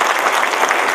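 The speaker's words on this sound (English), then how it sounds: "Let's give them all an applause," Audience at a diamond industry conference gives a brief, dense burst of applause, loud and close, with no speech.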